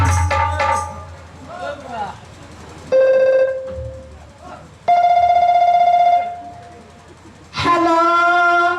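An old-style telephone rings with several long, loud electronic tones separated by pauses, mixed with voices and some background noise at a village dance-drama performance.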